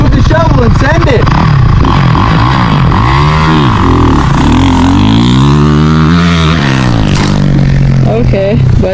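A dirt bike engine revs loud and close, its pitch sweeping up and down in repeated surges while people shout over it.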